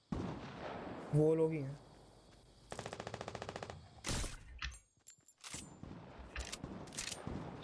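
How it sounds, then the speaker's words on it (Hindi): Enemy gunfire in a Fortnite match, with a rapid machine-gun burst and several sharp single shots, loud and close, between excited talking from players. "हमें कौन मार रहा है?"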